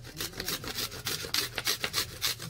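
Chopped onion being rubbed and squeezed with salt by hand for a paratha filling, a soft, close, continuous rasping and squishing with rhythmic pulses and no talk.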